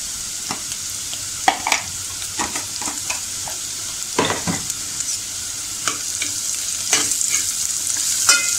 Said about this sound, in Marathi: थोडी हळद परतून घेऊ